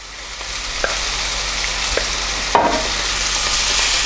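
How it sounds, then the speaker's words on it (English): Tomato puree going into softened onions in a pan, a steady close sizzle with a few spoon taps and a brief burst as it lands, no voices. "So the next thing I want to add is the tomato puree."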